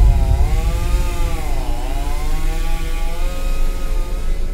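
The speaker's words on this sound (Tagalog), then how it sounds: "Merong may hawak na chainsaw!" A chainsaw held by an enemy in the horror video game Escape the Backrooms, loud and close, its engine whining and wavering up and down in pitch as it revs continuously for a few seconds.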